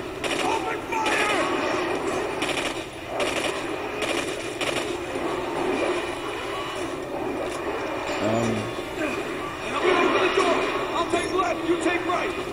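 Gunfire in the video game Singularity, with bursts of rapid shots and loud impacts mixed with shouting voices and action noise throughout.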